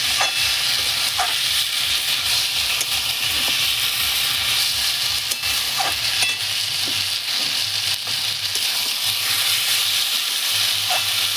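Meat being stir-fried for a long while in a covered pot over a wood fire, with steady close sizzling and the scrape of stirring, rhythmic at first and then a continuous hiss with occasional clatter.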